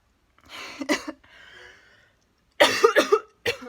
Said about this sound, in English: glad that was a short cough.